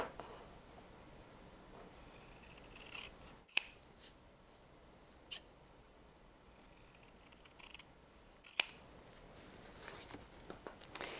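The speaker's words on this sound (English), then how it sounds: "you want to go ahead and trim your seam allowance down to 1/8 of an" Scissors trim a leather seam allowance down close to the stitching, giving several soft, close snips and rasping cuts spread out with quiet pauses between them and no talking.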